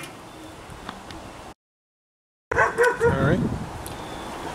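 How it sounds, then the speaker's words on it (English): Several noisy dogs bark outdoors at an off-grid cooking spot, a burst of loud, repeated barks after a brief silence, over steady background noise. "we have some noisy dogs"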